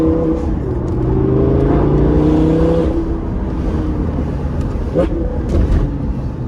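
A Lamborghini Gallardo engine revs and climbs through a gear change, a rising then dropping whine, with voices talking over it.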